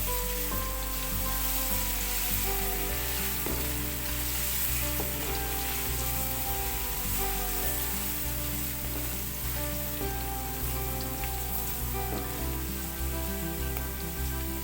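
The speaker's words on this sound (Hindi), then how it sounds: "अब मैं इसमें लहसुन अदरक का पेस्ट ऐड करूँगी और इसको अच्छी तरह से इसमें भूनना है" Garlic-ginger paste fries with onions in a pan for aloo palak, a steady crackling sizzle running through the whole stretch under a continuous background hum, with no voices.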